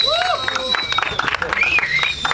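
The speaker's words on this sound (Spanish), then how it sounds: "Para David Cho, los aplausos." A live crowd at a freestyle rap exhibition battle applauds a rapper, with scattered claps, cheers and whistles running steadily through the whole short stretch.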